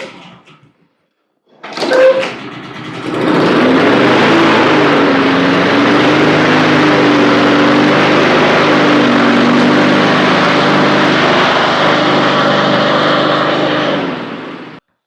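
A Honda lawn mower is pull-started with a short rattle, then its small engine catches and runs steadily and loudly for over ten seconds, close by, with no talking.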